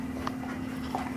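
A dog gives a couple of soft, brief whimpers with faint breathy panting, close by over a steady low hum, with no talking.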